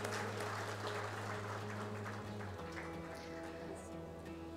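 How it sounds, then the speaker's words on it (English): Conference audience at an aviation panel on airspace optimization applauds as guests are welcomed, a soft, steady patter of clapping over a low hum. "Kindly keep the applause going, ladies and gentlemen."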